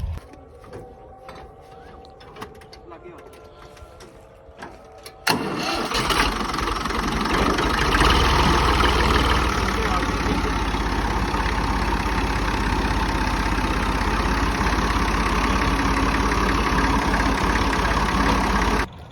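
A tractor engine on a dairy farm fires up after quiet clicks and faint background noise, then settles into a loud, steady, continuous running drone that holds unbroken for over ten seconds.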